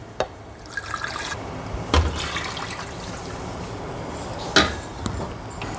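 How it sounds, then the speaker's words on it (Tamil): Milk poured from a shaken mixer jar into a pot of broccoli soup, a soft steady liquid trickle running throughout with a few brief clinks and knocks, fairly close and faint. "மிக்ஸி ஜாரை நல்லா ஷேக் பண்ணிவிட்டு அந்த பாலை ஊற்றிக்கலாம்"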